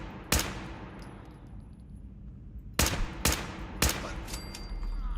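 Gunfire from a gun in Fallout 4, four sharp, loud single shots, one early and three spaced closely near the end, over quiet background ambience.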